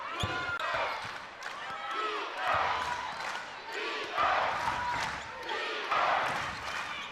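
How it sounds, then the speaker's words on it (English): A women's college basketball crowd at the Chiles Center in Portland swells in volume during a Gonzaga game, with cheering rising in waves and a sharp ball bounce near the start. "You can hear the Chiles Center crowd starting to get into it."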